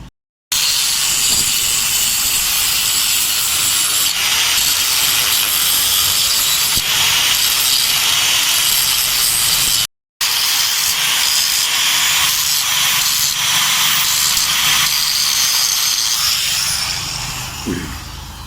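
A grinder cuts off the gear shift rod of a Pulsar motorcycle, a loud continuous harsh hiss and whine lasting many seconds, broken once by a brief pause before grinding resumes and tapers at the end.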